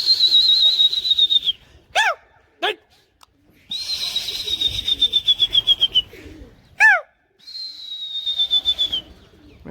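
Pigeons being flown for sport give repeated whistling, cooing calls, long descending tones alternating with short sharp bursts, close and clear, with people's voices faintly in the background.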